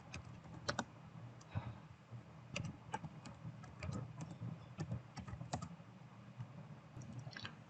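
Quiet clicks of a computer keyboard as someone types code in bursts, with short pauses between runs of keystrokes, close and faint in an otherwise silent room.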